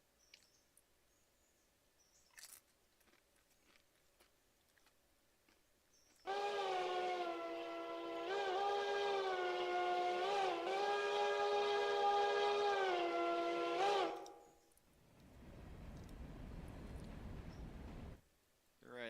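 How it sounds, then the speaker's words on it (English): Locomotives running in the train game Railroader, a loud sustained steam-whistle tone that blows for several seconds and wavers slightly, then gives way to a chuffing, hissing rumble of the engine. "Oh, there go the locomotives."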